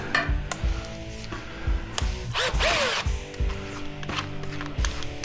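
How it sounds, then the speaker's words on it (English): A power drill works long screws out of a scrapped refrigerated stainless prep table, giving a sustained whirring burst amid clattering metal knocks and handling noise, fairly close. "We gotta put that in a drill or something here."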